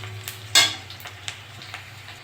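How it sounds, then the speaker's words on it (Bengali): Onion and two dried red chilies frying in a pan for a spicy pangas fish curry, a quiet sizzle with a few sharp clinks and scrapes of stirring, close and brief. "পেঁয়াজটা একটু ভেজে নেব। দুটো শুকনো লঙ্কা দিয়ে দেবো।"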